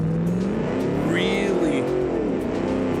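A car engine from a driving game, built for drifting, drones and surges as the throttle is feathered, with shifting tonal revs and a brief squeal, while a voice talks over it.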